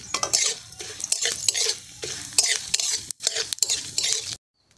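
Two bay leaves, a dried chili and a pinch of whole spices sizzle as they temper in hot oil in a pot for a village-style spinach and snail curry, crackling loudly with stirring and clinks of a utensil, close up before abruptly cutting off.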